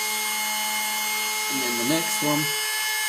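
A small drill fitted with a 1mm bit bores through a printed circuit board: a constant high motor whine, with a short swooping change in pitch as the bit cuts. A voice speaks briefly over it.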